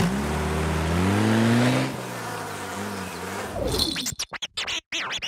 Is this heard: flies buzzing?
yes